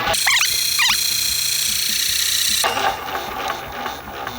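An electric high-pressure power sprayer pump switches on and draws water through its suction hose, a loud continuous mechanical whine and hum with a couple of brief squeals at the start, close and without talk.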